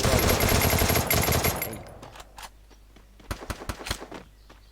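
Video game gunfire: a dense, loud burst of rapid shots at first that fades away, then after a quiet gap a few separate sharp shots ring out.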